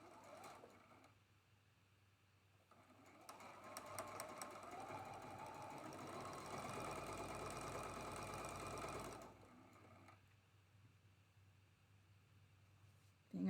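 A sewing machine chain-piecing traditional quilt blocks, starting with brief bursts, then a sustained whirring run of stitching that stops abruptly, leaving quiet room tone.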